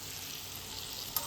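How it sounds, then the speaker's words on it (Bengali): Potatoes frying in a pan make a steady, close hiss of oil sizzling throughout, with a brief louder crackle near the end. "আলু ভাজা হচ্ছে,"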